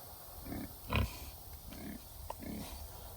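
Pigs grunt in low, short bursts at irregular intervals, nearby and moderately loud, with one sharper snort among them over a steady outdoor background.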